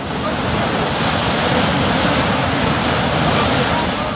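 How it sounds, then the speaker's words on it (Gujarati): Water gushes from a borewell in Rajasthan in a loud, dense, unbroken roar that runs evenly from start to finish, with no distinct voices. "પેટાળમાંથી પાણીનો જબ્બર ફુવારો"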